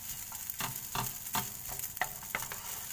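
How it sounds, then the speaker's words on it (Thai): Rice stir-fried in a hot pan with nam prik maengda, a Thai chili paste made with giant water bug, sizzles steadily while a spatula scrapes and tosses it in repeated rhythmic strokes, close and alone. "ผัดคลุกไปเลยนะผัดข้าวคลุกกับน้ำพริกแมงดานะทุกคน"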